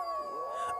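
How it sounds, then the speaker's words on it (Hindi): Dogs howling in a haunted village on a moonless night, a single long, wavering howl rising and falling steadily at moderate distance, alone with no talk. "आज ये कुत्ते इतना क्यों भौंक रहे बे?"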